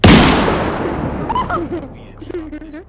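A shotgun fires in the VR co-op game Surv1v3: one loud, close blast that decays over about a second, followed by excited voices talking over the fading echo.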